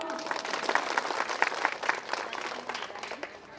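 A crowd at a women's day programme applauds, a thick burst of many hands clapping that swells in the middle and then slowly tapers off.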